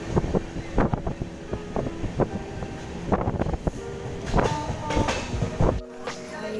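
Rumbling, clattering train ride between Siliguri and Malbazar, with steady rolling noise, intermittent rail clanks and wind buffeting the microphone throughout, loud and close as if from a window seat.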